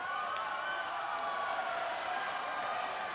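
A crowd at a Pokémon TCG World Championships seniors finals applauds steadily, a dense wash of clapping and cheering from a large audience heard at a distance and sustained throughout.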